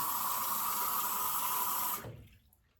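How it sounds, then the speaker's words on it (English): Warm tap water runs steadily into a shaving mug, a close, even hiss and splash for about two seconds before the flow cuts off abruptly and fades to quiet. "fill this guy up with some warm water"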